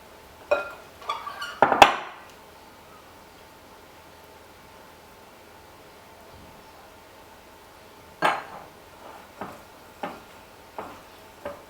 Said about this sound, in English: You want to use your dough whisk to mix it in as much as you possibly can.